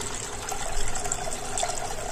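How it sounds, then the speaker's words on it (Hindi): One liter of milk poured through a strainer into a heavy-bottomed pot with a little water already in it, a continuous close liquid splashing and trickling that keeps going throughout with no talk. "तो इसे अच्छे से हम छान लेते हैं।"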